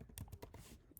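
Keys tapped on a computer keyboard while entering a layer name in Illustrator, a quick cluster of close, irregular clicks over about a second with no talking.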